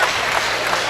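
A crowd at a high school boys' basketball senior night cheers and applauds in a steady, dense roar that fills the whole moment without a break.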